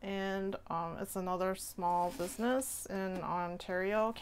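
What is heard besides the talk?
No everyday noise stands out behind the speech.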